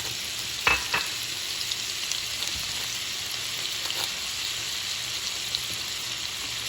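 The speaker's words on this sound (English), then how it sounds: "add a couple little pats of butter. That's gonna help them breadcrumbs crisp up really, really nice" Breaded chicken cutlets fry in melted butter in a pan for chicken parmigiana, giving a steady close sizzle and crackle with a couple of sharp pops near the start.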